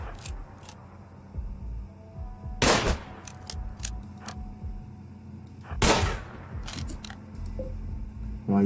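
Gunfire in the colony-building game RimWorld, two sharp broadband blasts a few seconds apart standing out from a low steady game hum with small clicks between.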